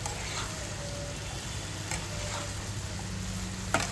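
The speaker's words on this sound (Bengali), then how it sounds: "এইবার সবজিগুলোকে ভালো করে নাড়াচাড়া করে দেব, যাতে সব সবজির গায়ে হলুদ লবণ সব মেখে যায়" Vegetables with salt and turmeric cook in a pan, a steady low sizzle with occasional soft stirring taps and a sharper knock at the end.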